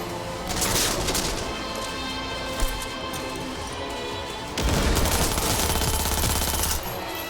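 Sustained automatic gunfire in Cyberpunk 2077, loud and close, with a long continuous burst, a sharp impact partway through, then a heavier, denser stretch of firing before it cuts off.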